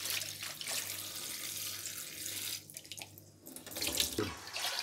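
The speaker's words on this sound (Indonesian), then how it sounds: "cuci bersih daun ubi jalar dengan air mengalir untuk menghilangkan kotoran dan residu." Sweet potato leaves are rinsed under running tap water, a steady close splashing rush of the faucet with shifting splatter as the leaves are moved through the stream, with no voices.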